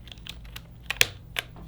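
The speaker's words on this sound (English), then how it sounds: "place it back into the keyboard, and test it once more" A replaced switch is tested on a mechanical keyboard with a few separate keypress clicks, the sharpest near the middle, sounding close and moderately loud over a low steady hum, with no one talking.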